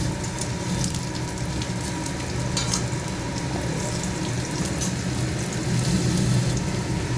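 Garlic frying in a pan for a dal dish, a steady dense crackling sizzle that stays even and fairly loud throughout, with no voices.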